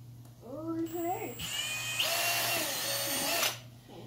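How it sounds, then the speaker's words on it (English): A handheld power drill pre-drills holes for a bell siphon build, a brief whine rising and holding steady for about two seconds before cutting off, close and fairly loud after a short spoken remark. "I'm going to pre-drill them first to make it a little easier on me"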